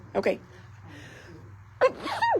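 A sharp sneeze bursts out twice, a short one first and a louder one after a pause, with a faint hum in the background.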